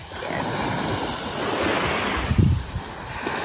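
Sea waves wash onto a beach in Bohol, a steady roar of surf with wind rumbling across the microphone and a heavier wave breaking near the end.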